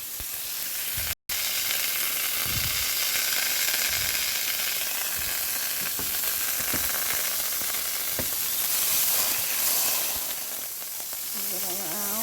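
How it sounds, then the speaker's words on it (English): A stick of butter melts and sizzles in a skillet over turned-down heat, a steady broadband frying hiss with occasional soft scrapes as it is moved around, close and continuous. "I'm going to let it melt in the skillet."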